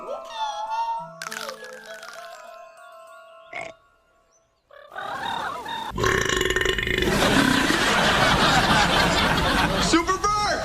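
Cartoonish burps from assorted video game characters come one after another, short ones early and a long, loud, gurgling belch later, mixed with character voices and chuckles.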